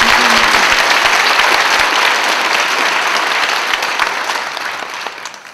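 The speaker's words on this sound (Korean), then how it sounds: "우리 모든 강사님들 우리 목사님들께 박수 해주시기 바랍니다." An audience at a church Bible study gathering applauds its lecturing pastors with loud, dense clapping that fills the room and then gradually fades toward the end.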